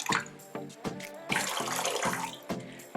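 Cold water, mixed with vinegar, pours and splashes into a container to soak pork belly before cooking outdoors, a running, gurgling stream with uneven surges and splashy bursts, close by and alone.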